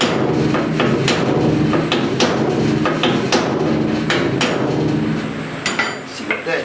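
A hammer strikes a buckled flange on a 1969 C10 truck door, landing a rapid series of loud metallic blows in an irregular rhythm over a steady background noise, easing off near the end.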